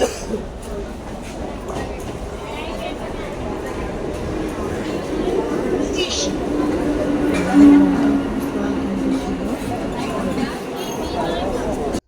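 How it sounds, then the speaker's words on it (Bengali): A train rumbles into a crowded station with a low, steady roar, and a brief squeal of brakes rises partway through while people murmur and talk nearby. "এই আমাদের ট্রেন ঢুকছে।"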